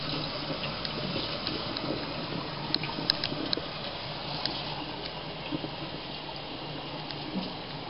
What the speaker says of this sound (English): Just wash it until the water runs clear.